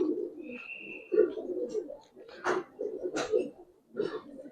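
Giribaz Pakistani high flyer silver pigeons coo in soft, low, repeated bursts close by, with a brief thin whistle-like tone early on and a couple of sharper chirps mixed in.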